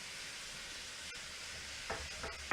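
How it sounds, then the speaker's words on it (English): Pork with rosemary searing in a hot pan, giving a steady, close sizzling hiss throughout, with a couple of brief stirring or shifting bursts near the end. "I'm going to rotate the pork. Remember, I'm just searing it."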